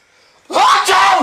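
A man imitates a loud dad-style sneeze with his voice: a sudden, forceful burst that starts after a quiet moment and holds loud and strained for under a second, like a bellowing yell.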